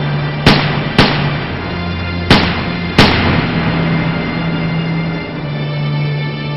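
Four sharp gunshots in a historical reenactment, loud single cracks spaced irregularly over a low steady hum, with no voices.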